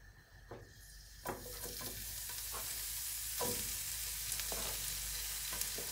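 Mushrooms frying in hot oil in a pan, with a steady close sizzle and repeated scraping stirs at irregular intervals.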